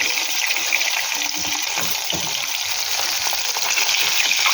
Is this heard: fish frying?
yes